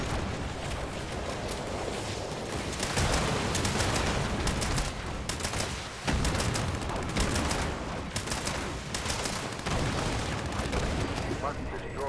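Gunfire in the Fallout 76 video game during a battle, rapid bursts of heavy automatic shots and booming blasts repeating steadily at a moderate level across the whole stretch.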